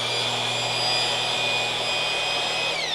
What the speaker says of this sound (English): So now I'm going to show you how to mix it. You've got your mixer here.